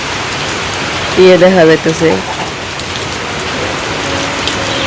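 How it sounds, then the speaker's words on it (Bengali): Steady rain falls in a windy Bangladeshi village under dark clouds, a dense, close hiss of drops throughout, while someone speaks briefly over it. "এটাই থেকে এই বৃষ্টির ফোঁটাগুলো পড়তেছে"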